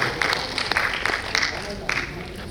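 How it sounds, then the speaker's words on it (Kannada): An audience at a Republic Day ceremony at Mangalore University gives scattered applause as guests are invited to the stage, with bursts of clapping mixed with voices. "ಇವರನ್ನು ಜೋರಾದ ಚಪ್ಪಾಳೆ ಮೂಲಕ ವೇದಿಕೆಗೆ ಆಹ್ವಾನಿಸಿಕೊಳ್ಳುತ್ತಿದ್ದೇವೆ"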